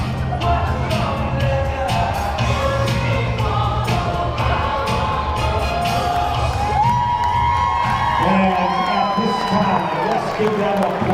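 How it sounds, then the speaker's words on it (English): A crowd at a girls' Class C1 basketball final cheers, whoops and applauds in a loud, continuous wash of noise, with shrill shouts rising above the steady roar and a voice talking underneath. "Give them applause."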